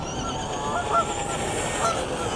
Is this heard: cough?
no